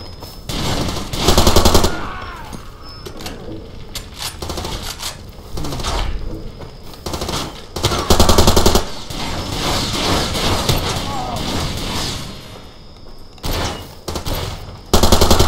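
Rapid assault rifle fire in Far Cry 2, loud repeated bursts of close gunshots separated by short pauses, with mechanical clatter between volleys.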